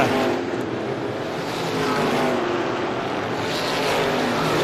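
Race cars roar around an oval short track in a late-lap battle for the lead, a steady, loud, continuous engine drone with no talking over it.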